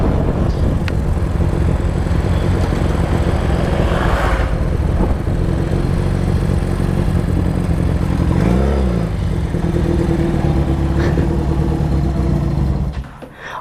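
A motorcycle engine runs loud and close throughout, holding a rough idle with occasional revs, then cuts out abruptly near the end; no talk.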